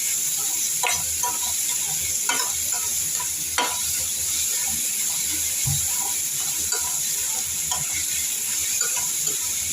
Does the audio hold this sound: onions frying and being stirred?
yes